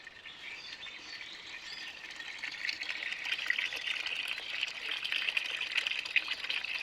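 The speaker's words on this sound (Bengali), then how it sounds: "আমি বালতিতে জল ভরতে দিয়ে দিয়েছি" Water runs into a bucket with a steady, faint hissing splash that grows slightly stronger, while birds chirp softly in the background.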